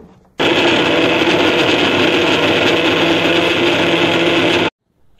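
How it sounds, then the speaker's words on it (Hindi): A kitchen grinder whirs loudly while grinding roasted peanuts into homemade peanut butter. It kicks on abruptly, holds a steady, harsh, gritty roar for about four seconds, then cuts off into silence, with no voices. "अब इसे वापस ग्राइंड कर देते हैं।"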